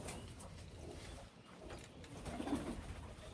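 Faint pigeon cooing rises out of a steady background hum, softest in the middle and a little louder near the end.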